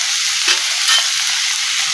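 Chopped tomato sizzles in a hot pan for a pea curry with carrot and eggplant, a loud, steady, close frying hiss with a faint scrape of stirring.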